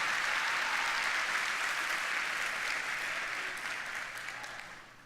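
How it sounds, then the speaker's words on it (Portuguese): A church congregation claps together in steady, full applause during a worship service, heard from some distance and gradually fading out over a few seconds. "Dá uma salva de palmas aí para Jesus,"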